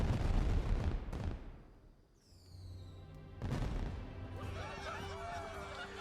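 Celebration fireworks in the first episode of the anime Frieren: Beyond Journey's End: heavy booming bursts, a whistling rocket, then crackling sparkles layered over music and voices.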